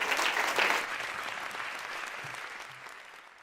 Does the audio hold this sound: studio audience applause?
yes